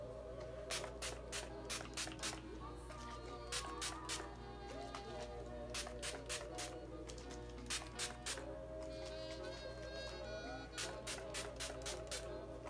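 A setting spray bottle is pumped toward the face in repeated bursts of short, crisp hisses, several quick sprays in clusters, fairly close and alone over faint room background.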